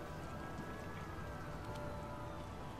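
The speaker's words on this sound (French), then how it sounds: "du coup ils mettent une ambiance de pluie" Steady rain ambience in the video game Watch Dogs, with a constant hiss of falling drops, even and unbroken throughout, with a faint tonal hum beneath.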